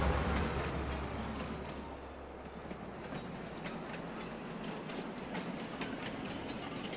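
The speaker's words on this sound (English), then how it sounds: "Train." A train running in Farming Simulator 22, with steady rumbling rail noise and clickety-clack wheels heard close and continuously, loudest at the start and then settling.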